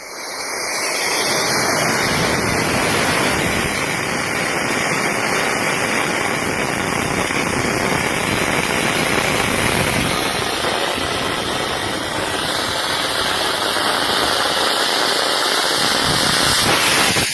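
A homemade rocket engine built from pipe ignites in a yard and launches, giving a loud, sustained roaring hiss that runs steadily for the full stretch without pause.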